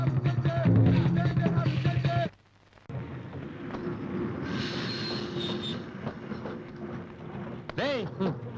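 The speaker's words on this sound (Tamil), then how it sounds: "ட்ரெயின் வந்துருச்சுடா" A train pulls into a station, its wheels squealing with high-pitched metallic whines over a rolling clatter, close and loud, while voices and other station sounds mix in, with a short dip partway through.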